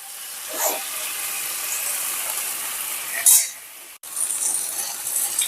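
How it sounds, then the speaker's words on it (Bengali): Spice paste is sautéed in a pan for a mixed-vegetable prawn curry. A soft, steady sizzle is broken by a few light scrapes and clinks of the stirring utensil, with a brief cut partway through. "মশলাটা দিয়ে একটু 5 মিনিট কষিয়ে নেব। মশলাটা একটু কষবে।"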